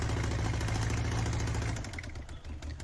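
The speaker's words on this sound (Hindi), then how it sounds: "ये पुराने मॉडल की गाड़ी का इंजन जैसे भी स्टार्ट हो सकता है।" An old-model Nissan diesel engine idles steadily just after starting, a loud, close, low rumble that holds evenly before easing slightly toward the end.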